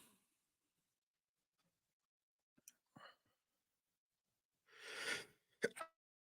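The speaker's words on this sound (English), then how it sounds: "I had a sneeze." In near silence, a few faint breaths lead to a sharp, breathy sneeze burst, followed by a quick snort-like exhale.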